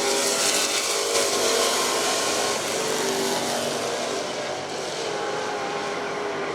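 A battered race car runs hard at night at Virginia Motor Speedway, its engine a loud, sustained roar that holds steady and fades slightly toward the end.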